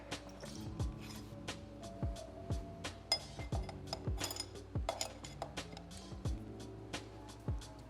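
Metal tire spoons worked between a bicycle tire and its wheel rim on a trail give quiet, irregular metallic clicks, taps and clinks, each sharp and short, scattered across the whole stretch.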